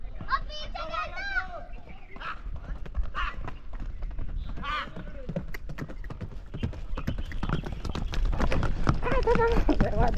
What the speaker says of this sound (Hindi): बहुत उछलता है घोड़ा